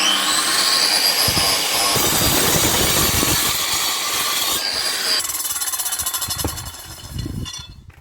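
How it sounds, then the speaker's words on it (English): Big petrol disc cutter slicing through a block, a loud, harsh grinding whine running continuously, changing pitch partway as the blade bites, then tailing off and cutting out near the end. "next job will be to get the big disc cutter out and"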